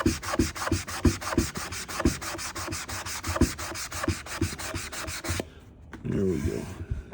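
Final sanding pass on a wooden keepsake box: steady rhythmic rubbing strokes of abrasive on wood, close and fairly loud, ending with a brief softer scuff and handling sounds.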